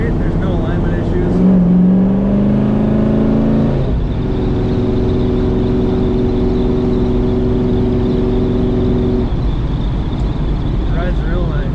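A 1969 Chevrolet Chevelle SS tribute car's engine hums and whirs steadily as it drives straight along, with a brief rising tone early on and continuous road rumble throughout.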